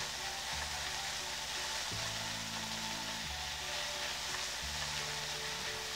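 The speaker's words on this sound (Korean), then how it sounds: "다진 마늘을 넣어서 같이 볶아주세요" Black bean paste and minced garlic sizzle steadily in a hot pan for jajangmyeon, a constant close frying hiss with a low background hum and no voices.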